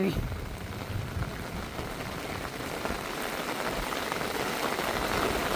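Heavy rain, the first hard downpour of the year at a rural home beside a catfish pond with water running, pours as a dense, constant hiss close by, with a voice faintly present beneath it.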